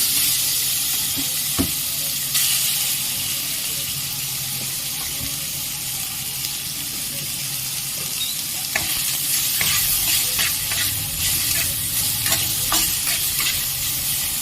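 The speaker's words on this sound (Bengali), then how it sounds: "ম্যারিনেট করা মাংসটা ভালোভাবে ভেজে নেব।" Marinated meat fries in ghee for mixed fried rice, a steady hiss of sizzling broken by scraping stirs and clinks of the spatula in the pan, with no voices.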